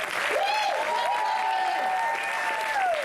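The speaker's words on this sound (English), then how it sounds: "Let's clap at her." Audience applause for a woman reverend at a comedy show, a steady wash of clapping lasting throughout, with whoops and voices rising above it.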